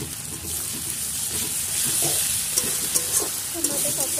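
Ginger-garlic paste fries in a pan with browned onions, a bright sizzle broken by a few soft spatula scrapes and taps as it is stirred, heard up close without speech.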